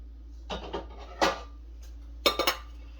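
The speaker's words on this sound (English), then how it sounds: "Let me get my pot here. And we're going to make that right on the stove." A cooking pot is pulled out and set down on a stove, a few distinct metallic clanks and clatters spaced over a few seconds, close and fairly loud in a quiet kitchen.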